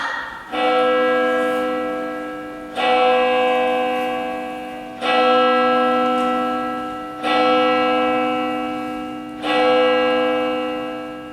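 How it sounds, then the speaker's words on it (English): A large alarm bell tolls during a high school stage production of Macbeth, five loud, resonant strikes spaced about two seconds apart, each ringing on and slowly fading into the next. "Ring the bell!"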